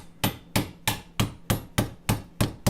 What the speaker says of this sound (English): that's hammering it